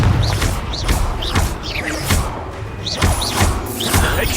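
Hogwarts Legacy Confringo fire spells burst in a quick, rhythmic series of sharp whooshing impacts, roughly one every half second, layered with combat effects and dull thuds.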